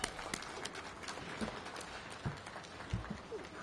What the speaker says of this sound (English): Let's give our mayor another big round of applause